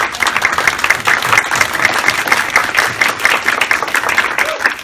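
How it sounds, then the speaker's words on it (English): An audience at a community placemaking workshop breaks into a sustained round of applause, with dense, even clapping filling the room for several seconds. "We need to give her a round of applause."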